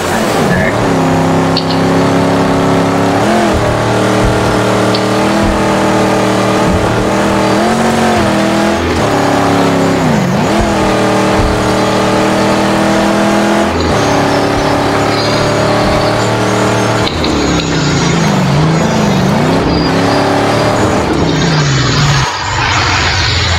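Engine of a car driven in the video game Mad Max, a loud, steady roar with shifting revs and tire noise throughout, no talk over it.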